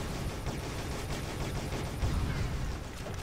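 Dense, continuous gunfire from the shooter game Shadowgun Deadzone during a deathmatch, a steady barrage of rapid shots that stays loud and unbroken throughout with no pauses.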